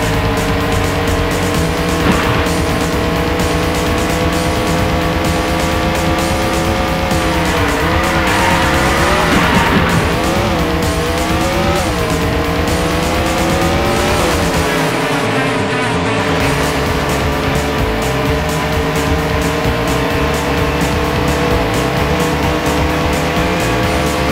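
Race cars in the PlayStation game Andretti Racing roar around the track, with a loud continuous engine drone whose pitch rises and falls through gear changes, plus tire squeals and skids.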